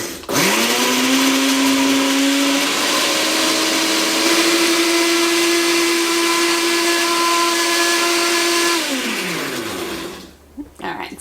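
A blender purees raspberries with sugar, its motor whirring loud and close at a steady pitch, shifting speed once partway, then winding down to a stop.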